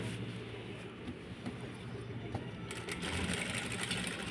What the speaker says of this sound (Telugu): పాదాన్ని పైకి లేపి స్టిచ్చింగ్ చేసేసుకోవాలి